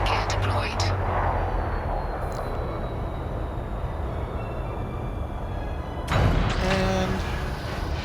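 Diamondback Explorer spaceship touching down in Elite: Dangerous, a steady low engine rumble and hiss with a brief louder thump and chime-like tones near the end as it settles.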